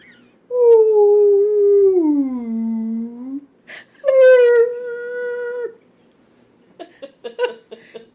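A person mimics a humpback whale call with long, sliding, mournful moans, loud and close, the pitch falling and then rising, followed by a brief pause and a second call. Light clicks and a short laugh-like burst come at the end.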